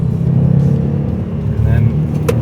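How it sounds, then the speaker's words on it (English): A 2016 Subaru WRX STI idles with its boxer-engine burble, a steady low rumble with an uneven pulsing throb, close and continuous. "they call it the Subaru blurble, but to me it's purring like a kitten"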